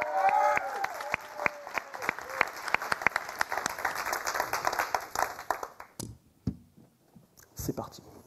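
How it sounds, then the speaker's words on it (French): An audience applauds a departing speaker named Franck at an Iron Mind business talk, a dense, steady round of clapping for about six seconds that then breaks off into a few scattered claps and faint murmuring. "un tonnerre d'applaudissements pour Franck pour avoir fait tout ça"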